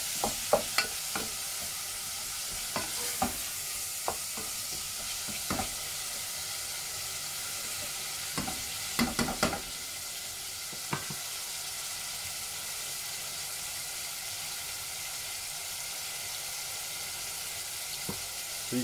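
Beef mince browns in a hot pan with a steady, quiet sizzle, and sharp stirring scrapes and clicks land at irregular intervals over the frying.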